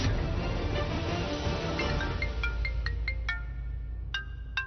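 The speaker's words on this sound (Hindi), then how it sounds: "पक्का उन्हीं का फोन होगा।" A phone rings with a run of short, bright electronic beeps in quick clusters, rising over a dense background music bed and growing clearer as the music thins.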